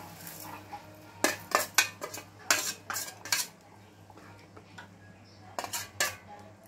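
A spoon clatters and scrapes against a metal pot while rice rava is stirred into boiling water, with irregular sharp knocks in bursts over a low steady hum.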